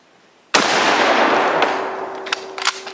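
A single sharp, loud gunshot from a Mosin Nagant M38 rifle cracks nearby, then a long rolling echo fades out over a couple of seconds, with a few small clicks near the end.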